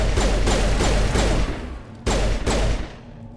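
Bursts of automatic gunfire in Mass Effect Legendary Edition, a rapid string of loud shots for about a second and a half, a pause, then another burst that trails off.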